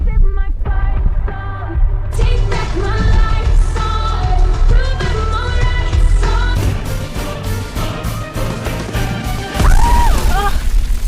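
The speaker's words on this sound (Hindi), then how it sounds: "बी को पटाखों की आवाज क्यों नहीं आ रही है?" In a Hindi-dubbed Peter Rabbit film scene, firecrackers burst with loud booms, crashes and pops under a dense music score, with brief voices mixed in.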